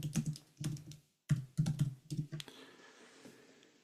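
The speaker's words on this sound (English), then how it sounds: "I'll type that for you" Typing on a computer keyboard: close, crisp bursts of key clicks in uneven clusters with short pauses between them, fading into a quieter trail of lighter taps at the end.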